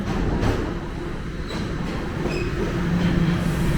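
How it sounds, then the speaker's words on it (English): A Toronto subway train draws closer to Union station with a rising rumble, faint wheel squeals and brief metallic clicks over a steady low roar. "And I see another train coming towards my way."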